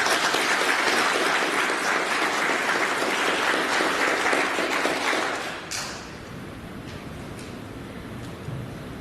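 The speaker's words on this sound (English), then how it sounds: "warm round of applause for their work during this period" Dense, sustained applause from a university conference audience, steady and full for about five seconds before fading out to a quiet room with a few lingering claps.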